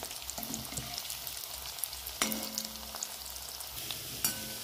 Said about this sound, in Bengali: উল্টে পাল্টে ভালো করে ভেজে নেবো।